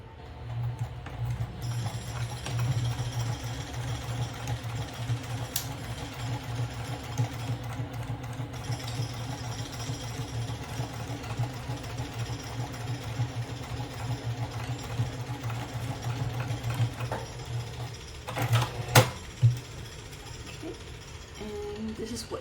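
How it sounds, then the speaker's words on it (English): A sewing machine runs in a long, steady, close stitching pass across a shoulder bag's inner pocket, with a few clicks and handling noises near the end. "So we're going to stitch it right up."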